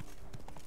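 A horse's hooves clip-clop in Witcher 3: Blood & Wine, a few quick, soft, even footfalls in a brief, quiet burst.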